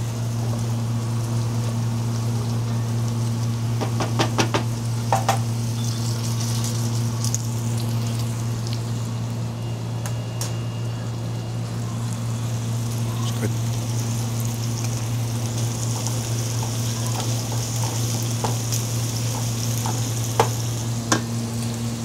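Garlic frying in a pan on a stove, a steady close sizzle with occasional stirring clatter and a constant low hum underneath, while someone talks now and then.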